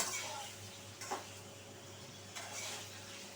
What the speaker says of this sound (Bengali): জাস্ট নুন দিয়ে একটু ভেজে নিতে হবে